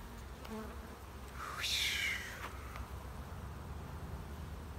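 Honeybees buzz around an open beehive during an inspection on a hot day. The droning is faint and steady, and one bee swells louder for a moment as it flies close by.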